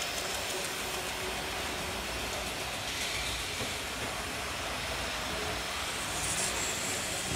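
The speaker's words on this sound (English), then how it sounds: "There you go, James, with a sick express train" A Hornby model toy train runs on its track, giving a steady, continuous rumble and hiss that stays at an even, fairly loud level throughout with no talking.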